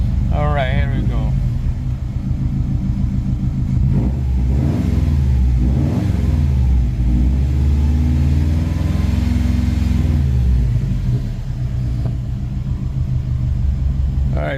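A car engine runs steadily and revs up and down in repeated swells, loud and close, with a deep rumbling idle between the revs.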